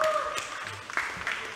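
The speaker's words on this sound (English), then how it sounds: "One more time, a round of applause for our new Siamese Twins Kickboxing Champions." Applause from a fight-event audience greeting new kickboxing champions, a fairly faint, continuous patter of clapping with crowd voices mixed in.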